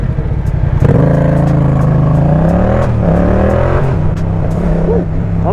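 Motorcycle engine fitted with a full exhaust line, revving loudly and close, the pitch climbing and dropping through several throttle blips with a rough, throaty drone.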